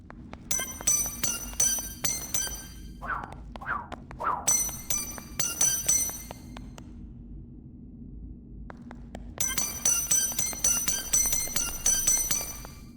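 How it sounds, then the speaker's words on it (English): Video game coin pickup: bright shimmering chimes ring out in quick bursts, a sparkling cascade of bell-like tones, pausing briefly before rising again over a low steady hum. "if the player picks up a penny"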